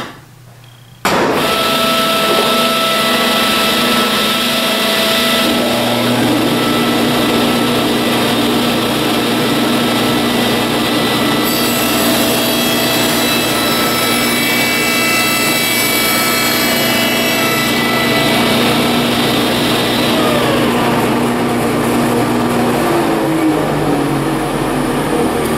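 A power saw cuts a piece of wood for a saddle repair, running loud and steady with a whining, tonal drone that shifts in pitch as the blade works through the piece, no talking.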